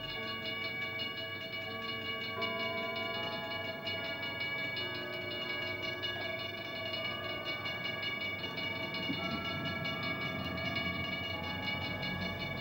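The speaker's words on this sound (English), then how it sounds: "we were able to pick up the sound of the train in the far distance" A low, steady rumble of a train with sustained tonal hum, distant and continuous, with no voices.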